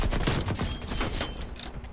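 Nail gun in Call of Duty: Black Ops Cold War fired in quick repeated bursts, dense sharp cracks layered over a loud continuous game soundscape, with no talk.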